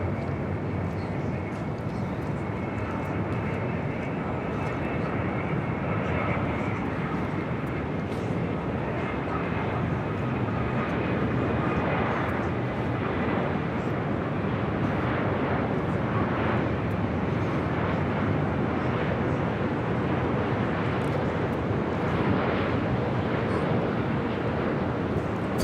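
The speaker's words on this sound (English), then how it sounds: "Now we got that on the Bond Airways Dreamliner 787-8 Dreamliner up next." Boeing 787-8 Dreamliner airliner at Los Angeles International Airport, a steady broadband jet roar holding at moderate loudness throughout, with airport ambience and no clear talk.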